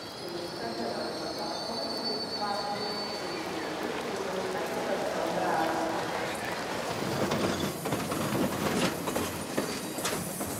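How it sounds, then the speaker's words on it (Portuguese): Commuter trains roll through São Paulo's Estação da Luz, a continuous rumble of rail cars with rising wheel squeal and clattering toward the end, fairly distant and steady. "Há 80 composições trafegando aqui diária e noturnamente, então é um barulho, né?"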